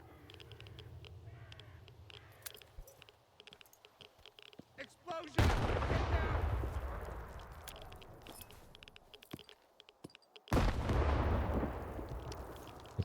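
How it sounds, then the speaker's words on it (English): Grenade explosions in the S.T.A.L.K.E.R. 2: Heart of Chornobyl video game, two loud sudden blasts a few seconds apart, each with a booming rumble decaying slowly, after quieter game ambience with faint caw-like sounds. "Explosion!"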